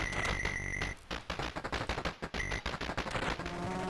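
Rapid shooting from the arcade shoot 'em up 1942 played on an Evercade EXP handheld: quick chiptune bursts pulse in a fast rhythm over electronic game tones, clear and close.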